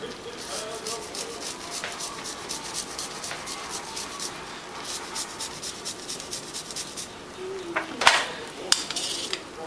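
Garlic grated on a microplane and stirred into risotto rice in a pot: quick, evenly spaced scraping strokes up close, then louder clanks of a utensil against the pot toward the end.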